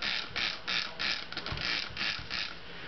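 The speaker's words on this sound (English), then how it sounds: "I'm going to spray this one down." A spray bottle spraying dye onto a tie-dye butterfly shirt, a rapid series of about eight hissing bursts in a steady rhythm, close and clear.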